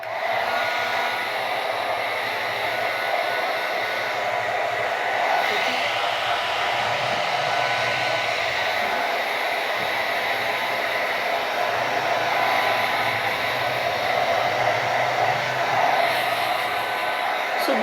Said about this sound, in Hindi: देखे मेरे बाल फुल गीले तो ड्रायर करते हैं पहले बालों को